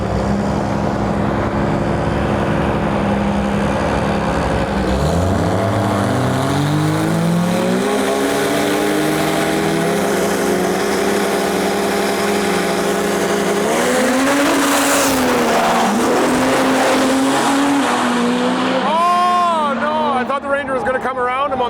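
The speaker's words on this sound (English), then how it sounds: "we got a really fast Ram in our lane, and far side we have a Cummins powered Ranger" A fast Ram truck and a Cummins-powered Ford Ranger drag racing side by side, engines revving and rising sharply in pitch through the gears, loud and close, with a person talking over the racket.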